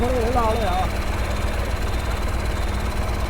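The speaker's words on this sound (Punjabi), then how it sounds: "ਤੁਹਾਨੂੰ ਇਹ ਚੱਲਦਾ ਵਿਖਾਉਨੇ ਆ ਟਰੈਕਟਰ" A steady low engine rumble from a modified New Holland tractor runs throughout at an even level, with a brief voice-like tonal warble near the start.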